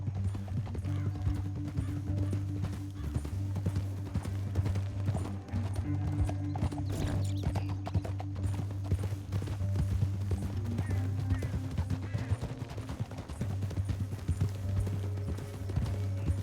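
Horses gallop in the Red Dead Redemption 2 video game, a steady, fairly loud rhythmic clatter of hooves over a low rumbling score that runs throughout, with a brief whinny.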